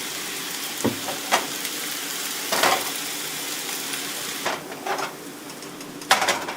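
Steady oil sizzle of noodles frying in a pan, with a few sharp clinks and scrapes of a utensil against the pan, no voices.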